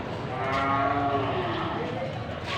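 Goats at a livestock market bleating, a drawn-out tonal call close by over crowd murmur and background noise.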